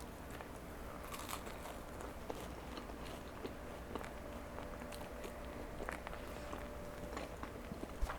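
A slice of spinach and feta pizza with a crunchy crust is eaten, giving quiet, steady chewing and bites at close range with occasional small crackles and no talking.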